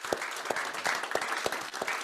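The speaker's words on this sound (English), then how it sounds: "Another round of applause." Applause at a Rotary Club meeting, a modest group clapping steadily with sharp individual claps standing out, fairly quiet and continuous without speech.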